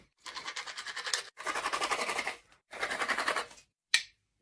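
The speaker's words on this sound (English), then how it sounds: "Now I gotta drill some holes." Holes are drilled by hand in a jungle setting, giving three long bursts of fast, rhythmic scratchy grinding close by, each lasting about a second, followed by one short final scrape.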